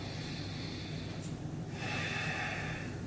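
Steady breathing during a Feldenkrais breathing exercise, a continuous airy hiss of inhaling and exhaling close by that grows slightly fuller near the end, with no talking.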